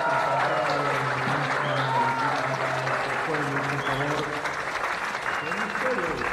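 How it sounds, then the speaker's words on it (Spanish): Warm crowd applause during a party scene in the El Chapo television series, with steady clapping mixed under overlapping voices and background music throughout. "Necesitamos darle un caluroso aplauso a todas"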